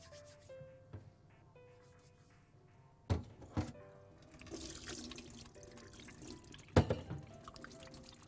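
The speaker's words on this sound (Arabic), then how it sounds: "بس لازم اغسل ايدي قبلها" A kitchen tap runs softly while hands are washed, with light splashing and rubbing and a couple of sharp knocks against the sink, quiet and close, with no talk.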